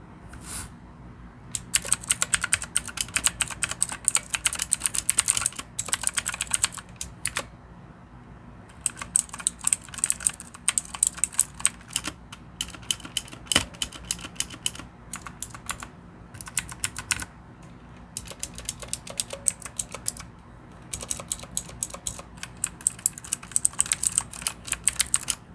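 Fast, continuous clacking of a Redragon blue-switch mechanical keyboard being typed on, sharp keystrokes in bursts with brief pauses, close and alone.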